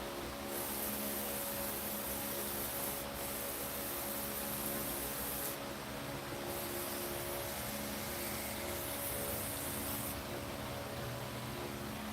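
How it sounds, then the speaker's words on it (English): WD-40 sprayed onto a Rhino front axle part: long, steady hissing bursts with brief gaps between them, over a constant low background hum. "Let me hit this with some WD-40."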